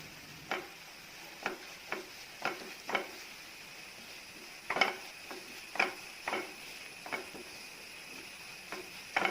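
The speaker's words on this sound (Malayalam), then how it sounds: "ഇത് നന്നായി ഒന്ന് മിക്സ് ചെയ്ത് ഇളക്കിയെടുക്കുകയാണ്" Spoon stirring chilli powder through fish roe thoran in a pan on the stove, a steady run of soft scraping strokes at an even rhythm, quiet and close with a faint sizzle underneath.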